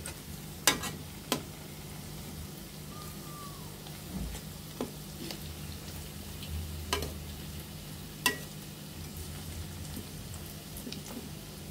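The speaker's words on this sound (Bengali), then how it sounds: "চুলার আঁচটা মিডিয়াম টু লোতে রেখে ভেজে নিতে হবে, তা না হলে মাছের ডিমগুলো ভিতরে কাঁচা হয়ে যাবে" Rohu fish roe koftas fry in a pan over medium-low heat, giving a soft steady sizzle broken by a handful of sharp pops and spatters, close and alone without talk.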